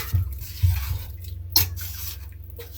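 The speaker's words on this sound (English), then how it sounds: "add more water." Water pours into a pot of Jamaican red pea soup with fresh beef and pig tail, a soft running and dripping splash with one brief louder burst, close by and alone without any talk.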